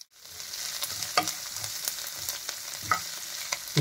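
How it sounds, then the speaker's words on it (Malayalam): Curry leaves, green chili, chopped ginger and garlic fry in oil, a close, continuous sizzle broken by repeated spoon scrapes and light clicks against the pan. "ഇത്രയും സാധനങ്ങൾ ഒന്ന് വാടി വരുന്നതുവരെ ഒന്ന് ഇളക്കി കൊടുക്കുക"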